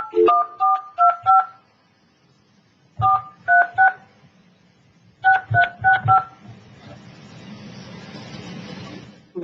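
Telephone keypad tones dialing into a conference call line: three quick bursts of four or five sharp, evenly spaced beeps separated by pauses, with faint background rumble in between.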